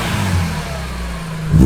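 A BMW E46 M3 engine revs up, giving a deep, raspy exhaust note up close, steady for a moment before swelling louder at the end.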